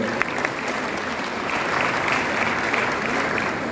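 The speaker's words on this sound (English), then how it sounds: "a round of applause" Audience applause fills a trade fair convention center during an Africa prosperity dialogue event, a steady, dense clapping from a large crowd that holds evenly for several seconds with no voices over it.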